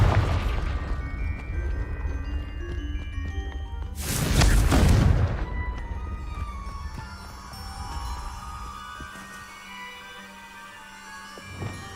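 A booming blast from a Confringo spell in the Hogwarts Legacy video game, a single heavy explosion that erupts partway through over a low game ambience and decays into a rumbling tail, followed by a faint later pop.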